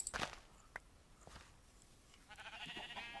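Sheep bleating in the video game Minecraft, a few short bleats heard quietly in the background alongside soft footstep-like clicks, with no talking over them.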